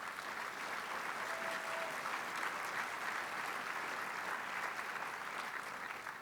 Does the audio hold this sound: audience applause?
yes